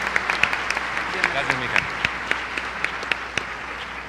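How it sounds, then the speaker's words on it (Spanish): An audience gives steady, moderately loud applause to welcome a guest lecturer, with distinct individual claps standing out, and someone briefly speaks over it. "Vamos a darle un fuerte aplauso, por favor."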